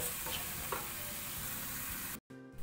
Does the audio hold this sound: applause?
no